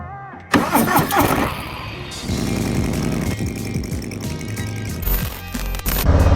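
A 2020 Harley-Davidson Low Rider S motorcycle cranks and fires up, then settles into a loud, close, steady rumbling idle with a few revs and no talking.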